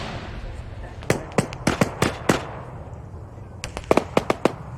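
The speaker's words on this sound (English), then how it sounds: "we have incoming grenades close southeast side of the wall" Grenades bursting in ARMA 3 combat, a string of sharp cracking blasts in two quick clusters, moderately loud, under a low background rumble.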